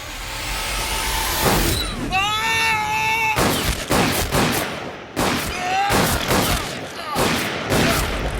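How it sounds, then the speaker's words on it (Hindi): A sharp gunshot rings out, followed by a burst of several more loud shots, with shouting voices and a wailing cry in between. "किसने गोली चलाई है?"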